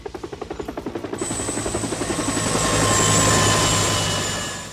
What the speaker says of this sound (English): In one episode, he even has a helicopter take him to school.